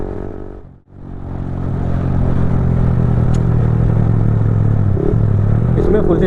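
A Yamaha R15 V4 motorcycle fitted with a quickshifter and a full Leovince exhaust system, header to silencer, revs up after a brief dip and then holds a steady, loud, close engine drone.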